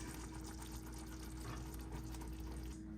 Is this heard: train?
no